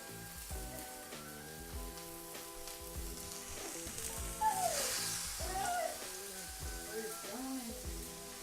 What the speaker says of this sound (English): I'm gonna add my salmon burgers to it.